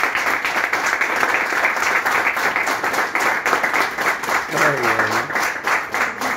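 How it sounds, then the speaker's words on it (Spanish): An audience at a meeting applauds with steady, dense clapping throughout, while a voice speaks briefly over the applause. "Espero y lo recibamos con un fuerte aplauso."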